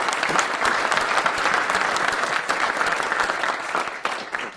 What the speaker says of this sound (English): So a round of applause for Steve Master.